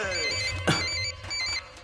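A phone ringtone plays steadily with repeating electronic tones, and a short vocal sound cuts in partway through.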